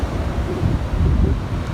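Ocean waves wash onto a sandy beach, a steady low rumbling surge with wind buffeting the microphone, close and fairly loud, no talking.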